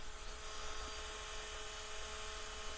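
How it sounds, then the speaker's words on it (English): A drill bores small divots into the tang of a Damascus steel knife, a steady close whine with a constant buzzing tone and no pauses. "I'm just drilling some matching divots for the holes in a tang for epoxy and weight reduction."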